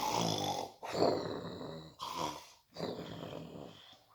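A voice imitates loud snoring: three long, rasping snores in a row, each a drawn-out rough inhale with brief pauses between.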